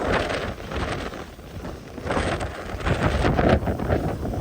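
Gusty wind on a cool day at Erciyes Ski Center buffeting a microphone, rumbling and roaring in uneven surges with no speech.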